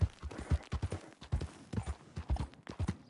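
Horse hooves clip-clopping at a steady walking pace in the Red Dead video game, close and fairly loud, with a few faint voice fragments underneath.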